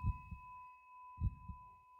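A muffled heartbeat sound effect from the video game Suite 776 thumps in two double-beat pairs with a pause between, set against a steady electronic hum.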